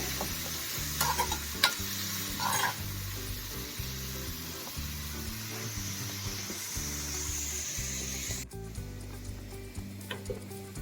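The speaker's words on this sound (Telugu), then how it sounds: "వాటర్ అంతా పోయేదాకా కలుపుకోవాలి" A spiced mixture of salt and chilli powder is stirred in a pan while the water cooks off, with a close, continuous sizzle and rhythmic spoon scraping and tapping throughout, easing to a quieter hiss near the end.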